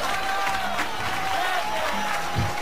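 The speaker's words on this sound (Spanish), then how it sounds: "Un aplauso para él." Television studio audience applauding a presenter, a dense patter of clapping with faint crowd noise for a few seconds.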